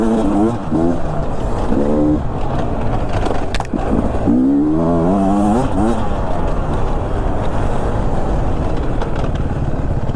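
A Beta 300 RR two-stroke dirt bike revs hard on a trail, its engine pitch climbing and falling in loud, close bursts as the front wheel lifts, under constant wind and riding noise.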